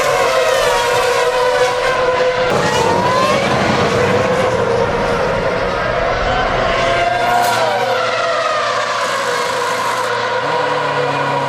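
Formula 1 race cars at the 2007 Bahrain Grand Prix scream past continuously, high-pitched engine whines rising and falling as multiple cars pass close by, loud and sustained with no talk.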